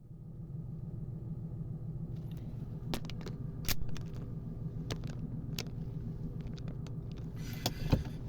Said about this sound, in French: je vais aller démarrer la voiture